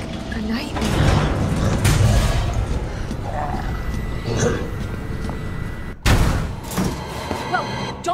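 Gunfire from a Resident Evil 2 Remake game scene: several sharp shots and bursts, the loudest near the end after a brief cut to silence, amid clatter, door-like thuds and voices talking throughout.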